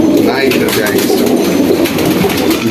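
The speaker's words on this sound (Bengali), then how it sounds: "কবুতরটা খুব সুন্দর কবুতর এটা" High-flying pigeons kept at a home loft coo in soft, rolling, repeated calls close by, with voices murmuring faintly underneath.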